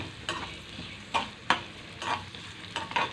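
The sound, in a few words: onion pieces frying and sizzling in a pan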